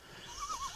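A horse whinnies close by, a short rising neigh that wavers for under a second over faint background noise, with a hint of hoof sounds.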